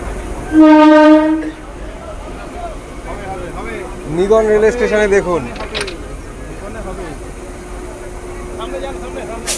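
Local train pulling into Nigon station on the Katwa–Barddhaman line gives a loud horn blast near the start, then a second rising-and-falling horn call amid a murmuring station crowd and rumbling carriages.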